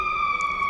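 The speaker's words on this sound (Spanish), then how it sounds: "Esperemos que pase la ambulancia." An ambulance siren sounds as a steady, loud two-tone wail that holds clear and continuous throughout, with no voices over it.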